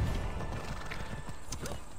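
Horse hooves clip-clopping in the Assassin's Creed Odyssey video game, a brief stretch of trotting hoofbeats with faint mechanical clatter, moderately loud with no talk.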